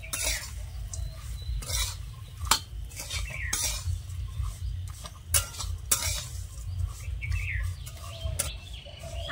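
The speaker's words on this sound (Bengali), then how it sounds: "এবারে ভালো করে সেমাইটা একটু ভেজে নেব।" Broken vermicelli frying with nuts in a pan, with repeated scraping and clinking stirring strokes over a low continuous sizzle, close-up and uneven in rhythm, without speech.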